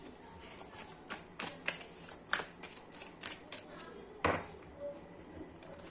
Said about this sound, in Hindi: मैं कार्ड्स अच्छे से शफल कर लूंगा।